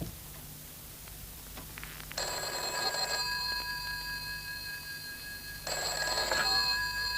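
A hotel room telephone rings in two distinct bursts, each a bright electric bell trill lasting about a second, heard clearly against a quiet room.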